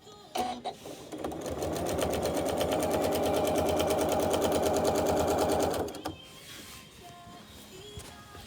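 A sewing machine runs steadily for several seconds while stitching lines of quilting, its rapid even needle rhythm loud and close, then stops abruptly and leaves quieter handling sounds.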